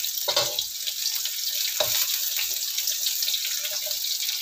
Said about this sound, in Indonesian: kita goreng-goreng sampai harum